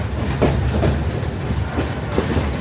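At a railway station, a train rumbles steadily nearby, its wheels giving a low continuous roll with faint rhythmic clatter and no voices.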